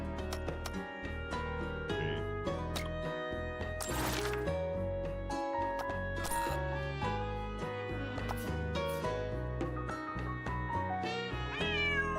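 Cats meow repeatedly in the video game Girls' Frontline 2, a steady run of close, clear mews over layered game music throughout.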